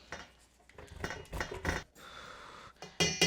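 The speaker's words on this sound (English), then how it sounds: "Grate your butter, dude." Butter is grated for strawberry shortcake in a home kitchen, heard as a few short, close scraping strokes separated by quiet pauses.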